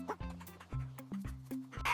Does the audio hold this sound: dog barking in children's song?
yes